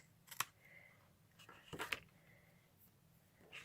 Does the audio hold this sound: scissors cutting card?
yes